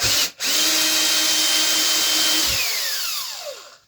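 Power tool sharpening a 63 cm garden cutting blade, a loud steady whine that breaks off briefly and then winds down as the motor slows to a stop.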